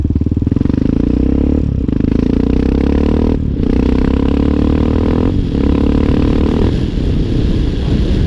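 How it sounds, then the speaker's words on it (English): Hawk 250 motorcycle accelerating in fifth gear with an NGK spark plug fitted, a loud close steady engine drone rising in pitch, broken by brief dips as the throttle or gear changes, with wind noise throughout. "We'll do 30 mile an hour that time and see what we can get in fifth gear."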